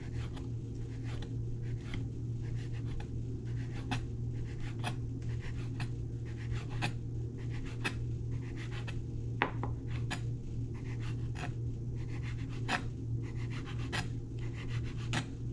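Knife or cutter slicing through fresh egg pasta dough on a board, a steady run of short, soft taps and scrapes repeating close by over a constant low hum, with no talking.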